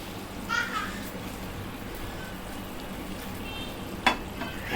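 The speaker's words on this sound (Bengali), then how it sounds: "এখন এই যে সসের মধ্যে বলক এসে গেছে" Sauce bubbles and sizzles steadily in a pan for a honey sesame pepper chicken dish, a continuous fizzing broken by brief higher sounds near the start and end.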